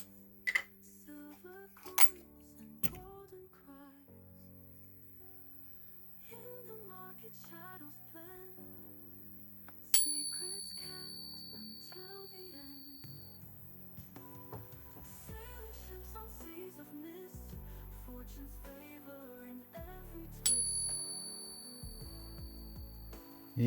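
Morgan silver dollar coins ringing when struck, giving a few sharp metallic taps followed by long, high, sustained tones that fade slowly. The sound is quiet and sparse, with faint background sounds.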